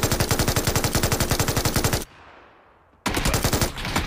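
Automatic gunfire in a video game, a loud, rapid, evenly spaced burst of shots, a one-second gap, then another burst.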